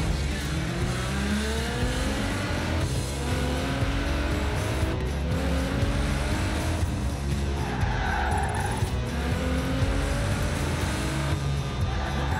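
A car drifting in Forza Horizon 4, loud continuous tire squeal and skidding over a droning engine, with the pitch rising and falling as the car slides through turns, no speech.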